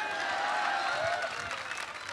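Applause from a crowd, a dense wash of clapping that holds steady and then thins slightly toward the end.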